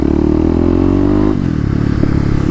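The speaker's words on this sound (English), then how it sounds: "So today we're just gonna have a fun little ride on the KLX." A Kawasaki KLX motorcycle being ridden gives a loud, close engine drone whose pitch rises slightly, then eases off as the throttle drops, with wind rumble over it throughout.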